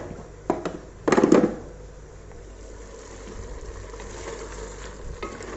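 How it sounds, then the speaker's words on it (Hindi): Meat and potatoes for aloo gosht are stirred in a hot pot, with two sharp bursts of scraping and clattering near the start, then a soft, steady sizzle of frying with a few faint knocks later. "अब इसको ना ऑयल आने तक इसको हम भूनेंगे"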